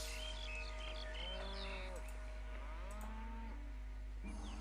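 Cattle low and moo repeatedly at a ranch in the game Pharaoh, several drawn-out bovine calls sounding over a steady ambient hum with faint insect chirps in the background.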